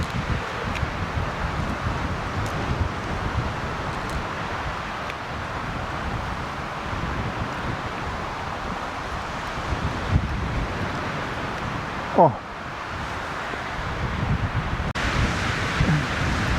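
Wind gusting outdoors, a steady broadband rush buffeting the microphone throughout, with faint rustling and no voices.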